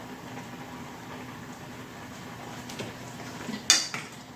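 Peaches are mashed with a potato peeler, giving quiet, scattered metallic scrapes and taps against a bowl, with a sharper clink near the end, over a faint steady room hum.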